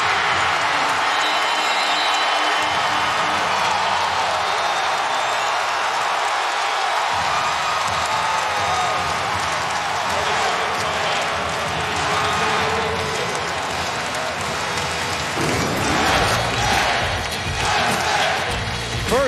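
A basketball arena crowd at a Kentucky at Mississippi State college game roars and cheers loudly and continuously after a made basket, with a broadcast commentator's voice over the din.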